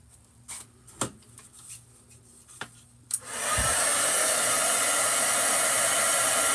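A heat tool blows on paper bag flowers, starting abruptly after a few faint taps and rustles, then a loud, steady hissing airflow that runs on continuously.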